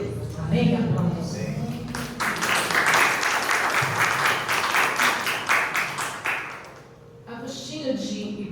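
Congregation applause after a prayer reading of Psalm 17, with a voice speaking briefly at the start, then a broad burst of clapping that swells, sustains for several seconds and fades before speech resumes.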